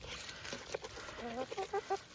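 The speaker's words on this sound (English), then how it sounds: "Mr. Rooster, Mr. Hopper are just kind of hanging out." Backyard chickens and a rooster cluck in short, faint bursts, a few rising notes near the end, heard softly at a moderate distance with no talking.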